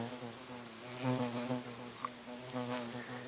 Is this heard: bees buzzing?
yes